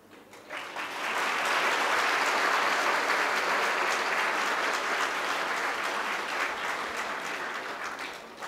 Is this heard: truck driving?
no